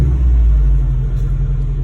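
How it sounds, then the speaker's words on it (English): Subaru road car driving with a noisy differential, giving a steady, loud low engine and drivetrain rumble with slight wavering whine throughout, no talking. "It's, actually drives just like a normal road car, other than it's got a noisy diff now"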